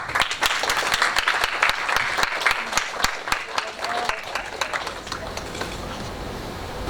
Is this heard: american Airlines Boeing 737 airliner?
no